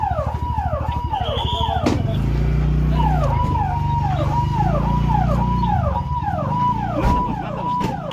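An ambulance siren wails in repeated rising-and-falling sweeps during a river-belt rescue. A heavy vehicle rumble runs beneath it, and a few sharp knocks cut in.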